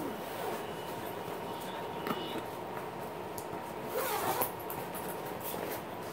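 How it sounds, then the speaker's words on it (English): The zipper on an expandable tote bag rasps open in a few quick, scratchy pulls over a steady low background hum, with no talking. "You can see the zipper right there."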